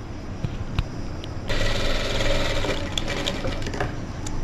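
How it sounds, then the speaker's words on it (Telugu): Sewing machine stitching a long, large stitch on cloth while attaching a lining, a steady continuous mechanical whir that starts with a few taps and then runs loud and close without talk. "ఈ విధంగా మనం పెద్ద స్టిచ్ వేసుకోవాలి."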